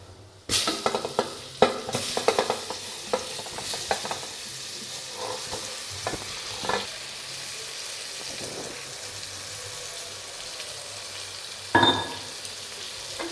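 Oil sizzles steadily in a pan while a spoon stirs and scrapes through frying bitter gourd, with a few sharper clinks near the start and toward the end.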